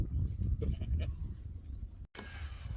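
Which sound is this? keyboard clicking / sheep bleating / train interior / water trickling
sheep bleating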